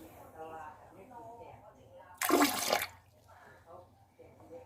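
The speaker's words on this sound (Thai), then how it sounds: "เดี๋ยวผมลองเทน้ำ" Water is poured into a flush toilet bowl in a short, loud splashing gush lasting about half a second, with someone talking quietly before and after.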